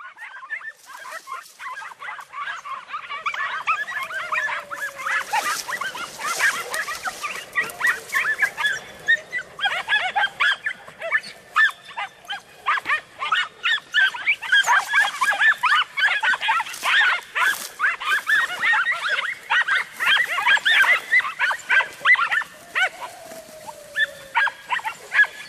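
Andalusian podenco hunting dogs bark and yelp in frantic, rapid bursts while chasing a rabbit through the countryside, a pack giving steady, dense cries at middle distance that build and grow louder over time, with occasional shouting.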